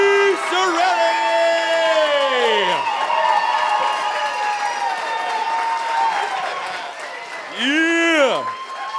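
Hockey arena crowd cheering and applauding as player number 71 arrives, a loud sustained roar with whoops and clapping throughout and a fresh surge near the end.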